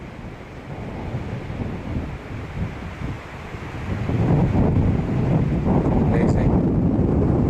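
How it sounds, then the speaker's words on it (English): Strong wind buffets the microphone on a high mountain ridge along the Arizona Trail, a steady roar that swells louder partway through, with a person speaking briefly over it. "Oh, it's so windy."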